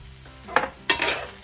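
Beef fried rice is tossed in a hot pan in two distinct scraping stirs, each followed by a brief rush of sizzling over a low background hum.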